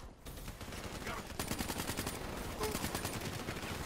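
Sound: gunfire in Black Ops III video game

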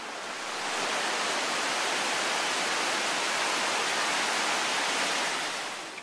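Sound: rushing river water swollen by rain

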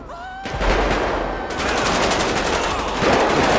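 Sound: gunfire in video game GTA 5

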